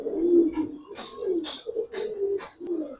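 Close, soft cooing of pigeons: Giribaz coloring and high flyer breeds in a loft or market setting. Repeated low, throaty coos sound in an uneven rhythm with no talk.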